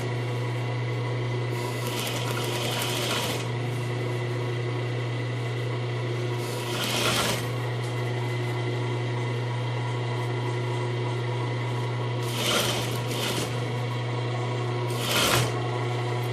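Sewing machine stitching a zipper into a pillow with piping, a steady motor hum running throughout with several short bursts of faster stitching, close and moderately loud.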